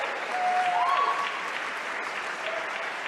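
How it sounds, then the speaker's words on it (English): An audience at a benefit gala applauds for Joyce Rivera, steady close clapping from a crowd that holds for about three seconds. "Let's give her a big hand of applause."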